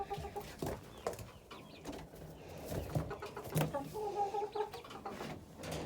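Young chicks after being moved, soft nearby clucks and coos repeating irregularly throughout, with scattered rustling and handling noises.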